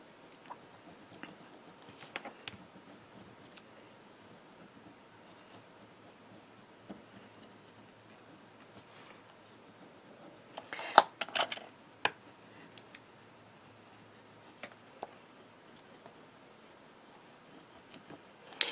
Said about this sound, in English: use the stick or a bone folder to rub them on